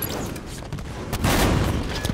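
Gunfire from a video game match in Halo 5, with dense overlapping shots and bursts of combat noise running continuously, loud and busy, peaking in a heavier cluster midway.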